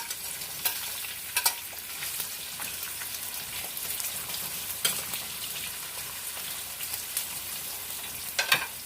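Onions frying in a pan for pancit bihon and canton are stirred with a utensil, giving a steady broadband sizzle broken by sharp scraping clicks and clatters throughout, close up with no talking.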